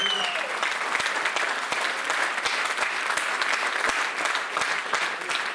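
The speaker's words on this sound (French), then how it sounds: "Des applaudissements également pour Claude Lazeroni, s'il vous plaît." Theatre audience applauding steadily, a dense wash of clapping hands that stays loud and even throughout without voices on top.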